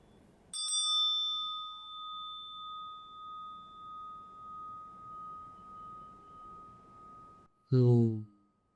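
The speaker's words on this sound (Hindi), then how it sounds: "ये जो घंटी बजी है, इसका साइंटिफिक रीज़न भी है।" One sharp strike of a small bell, then a clear, pure ring that sustains and slowly pulses as it fades over several seconds, before a voice speaks.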